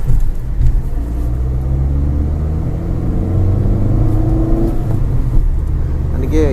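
A Maruti Ciaz Smart Hybrid converted to CNG running and pulling away, a loud close engine rumble inside the cabin that rises in pitch as it accelerates, with someone talking over it.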